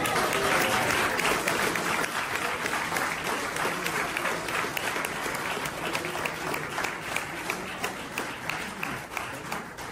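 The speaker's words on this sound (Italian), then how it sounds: "Allora facciamo una bella applauso." Sustained applause from the gathered guests at a civil union ceremony in Naples, a dense steady clapping that fills the room and fades slightly toward the end.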